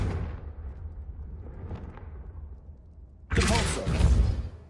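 A Confringo spell explosion in Hogwarts Legacy: a rumbling fade, then a sudden loud, broad fiery blast with crackling debris for about a second and a half, no talk.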